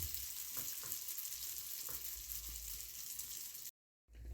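Cabbage-filled pirozhki frying in hot oil give a steady, close sizzle with faint crackles throughout, then a brief dropout of silence near the end.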